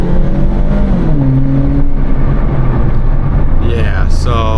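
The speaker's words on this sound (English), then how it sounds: "Just step down on the gas right there." A lowered Scion tC with the engine under acceleration, a loud steady droning hum rising in pitch inside the cabin, with a person talking over it.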